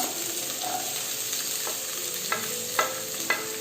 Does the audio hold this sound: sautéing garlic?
yes